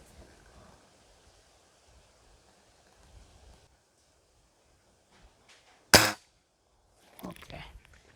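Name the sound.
spring air rifle shots at target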